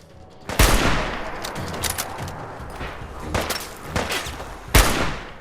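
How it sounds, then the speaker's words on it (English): Hunting rifle gunfire in Fallout 4 gameplay: loud sharp shots crack out at irregular intervals over a dense, noisy battle din, with about four prominent reports spread across the stretch. "Let's pull out the hunting rifle."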